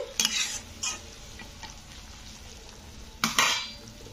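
Vermicelli is stirred in a pan for semiya upma: two bursts of spatula scraping and clatter against the pan, near and distinct, separated by a quiet stretch of low simmering.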